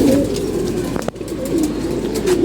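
Pigeons coo in a home loft in the late afternoon, a steady low warbling that runs continuously and fairly loud close by, with soft rustling and a brief knock partway through.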